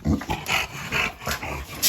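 An agitated, unruly dog gives a series of short, rough barks and growly vocal bursts in an irregular rhythm. The sounds are fairly faint and close, and no voice is heard.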